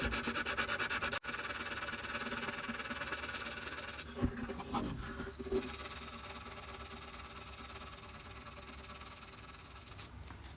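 The flesh of a thumb rubs a finish into a violin's surface around the nut area during a restoration, a soft, continuous close-up friction with a couple of small bumps partway through.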